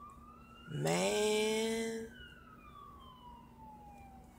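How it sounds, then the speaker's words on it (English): An ambulance siren gives one sharp rising wail that holds loudly for about a second, then trails off into a fainter falling tone; someone says a single word. "And here comes the ambulance."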